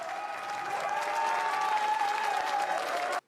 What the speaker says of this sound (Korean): 큰 박수로 축하해 주시기 바랍니다.